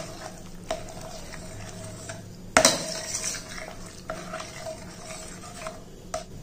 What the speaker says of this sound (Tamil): எல்லாத்தையும் நல்லா மிக்ஸ் பண்ணிடுவோம்.